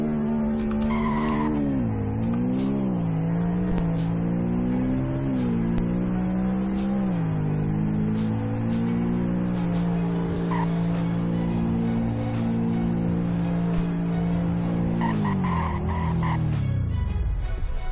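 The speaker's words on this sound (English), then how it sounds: "here is a 0 to 100 braking test." Simulated car in the Roblox game Greenville braking hard from 100, with a steady engine drone and repeated loud tire skids and squeals before the engine winds down near the end.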